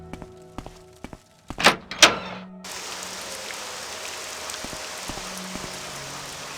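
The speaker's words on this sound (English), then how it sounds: "I like that it's still raining." Steady rain falling in the video game Morrowind, a constant hiss that starts abruptly after a few hollow thunks and a couple of sharp clicks, continuing evenly to the end.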